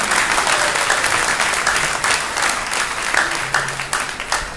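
A crowd at a Bhagwat katha at Sri Raman Vihari Gaudiya Math in Delhi breaks into loud, sustained applause, dense clapping rolling on evenly with no voices on top.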